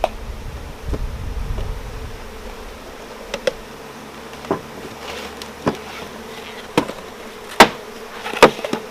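Many honey bees hum in a steady, close buzz around a hive, with scattered knocks and taps of beekeeping equipment around them.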